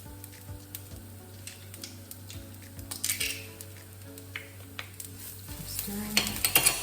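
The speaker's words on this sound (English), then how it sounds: "keep stirring" Chorizo frying in a pan for a chorizo and rice dish, a constant sizzle under repeated scrapes and clinks of a utensil stirring against the pan, with a few louder knocks near the end.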